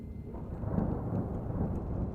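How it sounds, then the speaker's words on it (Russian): Steady rain hisses with a low rumbling wash in a horror video game, a continuous faint downpour with no voices. "Это был дождь."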